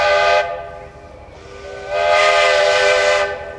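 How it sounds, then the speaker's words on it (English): A Virginia and Truckee Railroad steam locomotive whistle sounds in two rich, harmonic blasts, a short one followed by a longer, louder one, with hissing steam between them and no talk. "The identity of a locomotive lies in her whistle."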